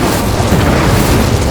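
An Incendio fire spell cast in Hogwarts Legacy: a loud, steady roaring blast of flame, a sustained whooshing burst lasting about a second and a half, close and alone with no voices.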